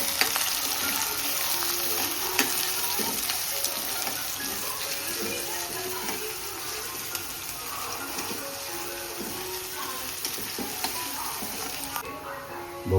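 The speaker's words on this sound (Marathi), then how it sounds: "आता आपण बारीक केलेला आपण कांदा आहे तो टाकू. तोही मस्त तेलामध्ये परतून घेऊ खमंग." Finely chopped onion fries in oil, giving a continuous sizzling hiss with scattered stirring scrapes, steady and close throughout, with no speech.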